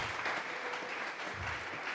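Church congregation clapping as an offering of praise to God at a Bible study service, a continuous rolling applause from many people, moderately loud and fairly even.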